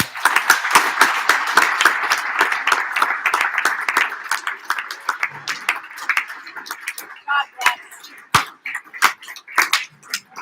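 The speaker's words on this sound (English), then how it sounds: "let's give one more round of applause for these Hall of Famers" A banquet audience gives a round of applause for Hall of Fame inductees, dense steady clapping filling the room and then thinning into scattered, louder individual claps near the end, with some talk mixed in.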